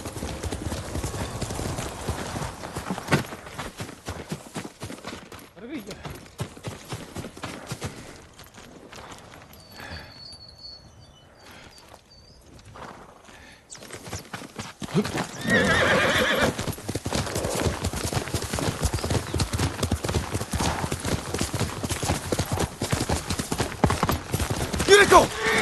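Horse hooves clip-clop in the Ghost of Tsushima video game, joined by a horse's whinny, steady hoofbeats running through most of the stretch and rising louder in the second half over game ambience.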